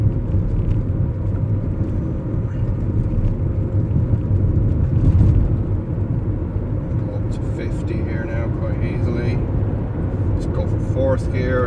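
A BMW E39 converted to electric drive with a Prius inverter accelerates hard through the gears, a steady low road-and-drivetrain rumble with rising whine and occasional clunks under continuous loud cabin noise.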